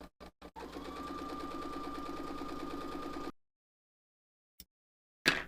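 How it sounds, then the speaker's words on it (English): A sewing machine with a quarter-inch foot stitches a quilt block in a steady, fast whirring run after a few short starts, then stops, followed by faint clicks. "So we'll take it over to the sewing machine"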